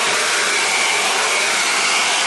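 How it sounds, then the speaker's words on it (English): A hair dryer blowing on fine hair, a steady loud whooshing roar with a whining motor tone, close and constant with no pauses or talking. "if I give it a little bit of a blast with the hair dryer"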